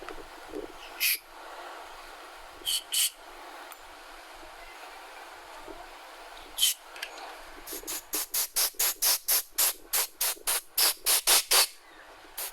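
Sharp hissing bursts of spray from a McCulloch Electrolux TM251 carburetor check valve, a few scattered at first, then a rapid run of a dozen short even pulses near the end.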